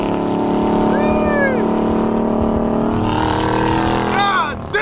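A Dodge Hellcat roars loudly at close range on a highway, its engine pitch sweeping up and down as it accelerates alongside other traffic.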